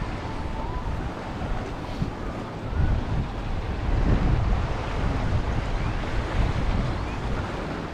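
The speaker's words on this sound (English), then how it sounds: "So here comes a boat." A boat motor drones past a jetty over lapping water and wind noise, swelling slightly louder midway then easing off.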